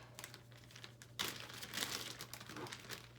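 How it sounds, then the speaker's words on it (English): A small plastic bag used to hold shoes crinkles and rustles close by, with a sharper burst of crackling partway through followed by continued handling noise over a steady low hum. "I have my little plastic bag that I keep my shoes in right here"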